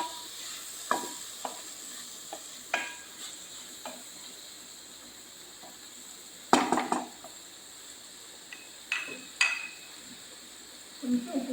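Three medium tomatoes are sautéed in a pan for a rajma curry. A faint, low sizzle runs under sporadic clinks and scrapes of a spoon against the pan, with a few sharper knocks scattered through.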